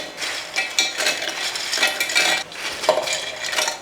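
Roasted ingredients being spooned into a mixer jar: a run of close scraping and light clinking of a spoon against metal, with irregular strokes and a brief sharper clink near the end, and no voices.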